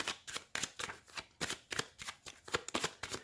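A tarot card deck is cut and shuffled by hand, a quick run of crisp riffling bursts in uneven rhythm, close up and soft, with no talking.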